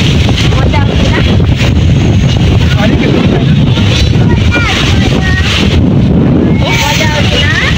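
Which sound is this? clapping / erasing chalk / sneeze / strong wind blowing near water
strong wind blowing near water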